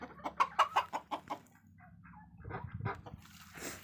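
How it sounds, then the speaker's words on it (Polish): Chickens cluck nearby in a quick run of short calls, then softer clucking and rustling continues, ending with a brief scratchy noise. "tylko pokazać wam te nowe kury"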